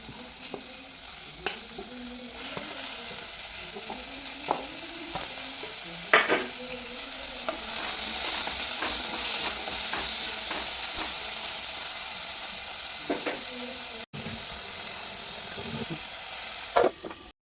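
Onions fry in a pan and are stirred: a continuous close sizzle with repeated scraping strokes of a spoon against the pan, growing denser toward the end, with no talking.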